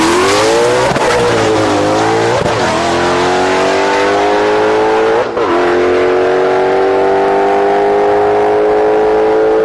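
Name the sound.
Mustang drag car launching on the quarter mile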